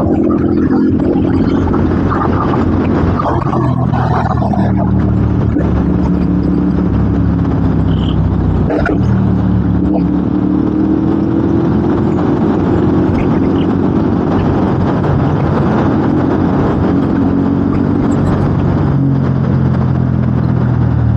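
Loud, close CFMOTO 450SR motorcycle engine droning and rising, with brief dips in pitch as it shifts up through gears using a quick shifter without the clutch, no talking.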